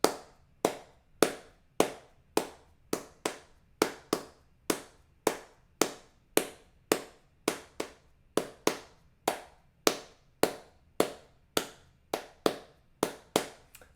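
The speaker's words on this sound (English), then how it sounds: "So do the clapping." Hands clap in a steady, even beat along with a ukulele play-along, around two dozen sharp, crisp claps at a regular tempo, close and clear with nothing else heard.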